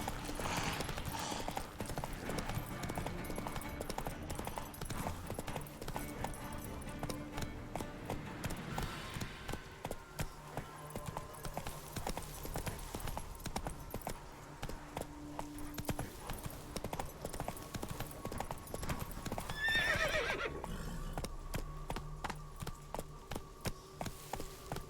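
Roach, a horse in The Witcher 3 video game, gallops cross country with steady rhythmic hoofbeats under game music and ambience throughout, moderately loud and continuous.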